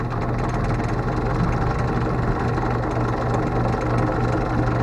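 A lathe-type machine spinning at about 350 RPM, giving a loud, steady, continuous motor hum and drone with no change in pitch throughout.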